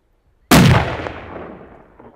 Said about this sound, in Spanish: decide rematarlo en un segundo disparo